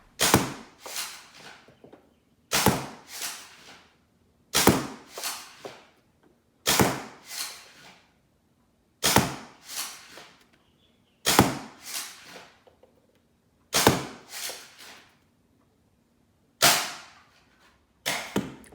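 A foam dart blaster, a Swift fitted with an 8-threaded barrel, fires black Worker bamboo darts in eight sharp, close shots, each a crisp crack with a short rattling tail, spaced about two seconds apart in a quiet room.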